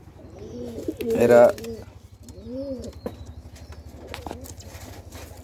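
Pigeons from the same loft give soft, repeated cooing calls nearby, with a brief flutter of movement, while someone speaks over them.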